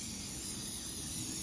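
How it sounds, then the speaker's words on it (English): Brake cleaner hisses steadily from an aerosol can onto an engine surface where an old gasket was scraped off, a continuous close spray with no talk. "I'm just going to give it a spray with some brake cleaner and get it off with a rag."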